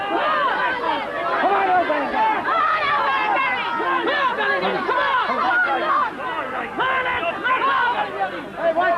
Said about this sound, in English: Tremendous crowd participation in this game. Both sets of fans wanting their heroes to win this one.